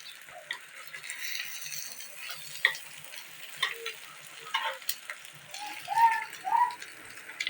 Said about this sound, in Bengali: তো দেখুন, ডিমটাকে আমি ভালো করে ভেজে নিয়েছি উল্টে পাল্টে।